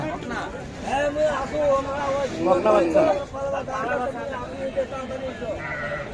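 A young heifer calf standing with its cow at Kaharol cattle market gives several drawn-out bleating calls, fairly close, over a steady murmur of crowd talk.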